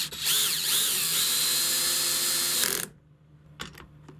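A power drill drives a screw to fix an outdoor TV antenna in place, a loud continuous whirring motor run of nearly three seconds that cuts off abruptly, followed by a few faint clicks.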